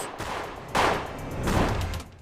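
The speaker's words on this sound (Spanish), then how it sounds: "6 balazos" Gunfire in a comedy sketch, a string of sharp, loud shots landing as two heavy bursts about a second apart over a dull, rumbling background.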